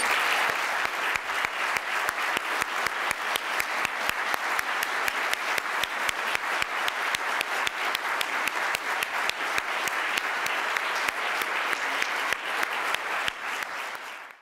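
A ceremony audience at the 2013 PEN American Center Literary Awards gives the standing grantees dense, loud, steady applause that holds evenly for the whole stretch and tapers off at the very end.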